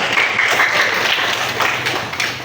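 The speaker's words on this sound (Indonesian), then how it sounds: "Ya, tepuk tangan untuk kita semua." Brief, loud applause from an audience at a plenary scouting organization meeting, a dense burst of many hands clapping close by.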